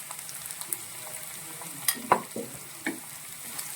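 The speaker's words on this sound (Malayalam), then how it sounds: "നമുക്കിതിലേക്ക് നമ്മൾ വട്ടത്തിൽ അരിഞ്ഞു വെച്ചിരിക്കുന്ന പച്ചമുളകും കൂടി ചേർത്ത് കൊടുക്കാം" Sliced green chilies sauté in a pan for prawn pickle, a soft steady sizzle under a few light scrapes and taps of stirring, fairly faint and close, with no talking.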